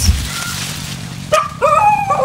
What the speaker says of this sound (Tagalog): Ayan, natahulan pa ako ng aso.